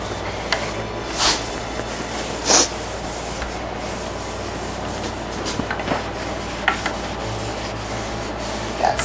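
Sandpaper rubs over a varnished wooden piece to dull its shine, producing a steady soft hiss with occasional louder swipes and light knocks, close and without speech.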